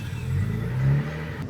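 A Mitsubishi Pajero engine fitted with a new timing belt and a Kakimoto exhaust revs up briefly, a loud, deep droning swell that builds and then eases back, heard alone.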